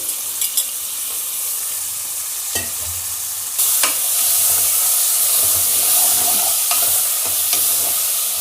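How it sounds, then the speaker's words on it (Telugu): Raw tiger prawns dropped into hot oil for a prawn and potato curry hit the pan with a sudden loud surge of sizzling that keeps up steadily, preceded by quieter frying and a few sharp clinks. "ఇప్పుడు పచ్చి రొయ్యలు వేసేస్తున్నాను టైగర్ రొయ్యలు అండి ఇవి"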